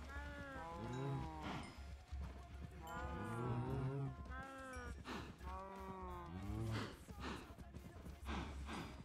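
Several cows in Minecraft moo repeatedly in overlapping, drawn-out calls, fairly close and clear, with a few brief pauses between groups of moos.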